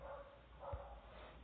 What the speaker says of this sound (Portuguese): aqui na rua da minha casa, gente, tem uns cachorros que não param de latir